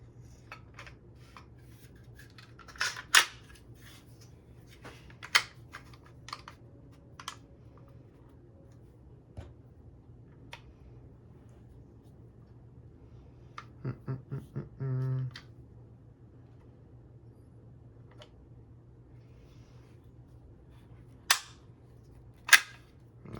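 Heckler & Koch Mark 23 pistol being reassembled, a sparse series of sharp metallic clicks and snaps separated by quiet gaps, with a quick rattling burst of small clacks in the middle and two crisp clicks near the end.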